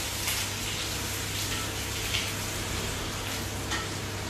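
Ginger and garlic sizzle steadily in a hot pan while being stirred, a continuous close frying hiss with faint scraping ticks throughout.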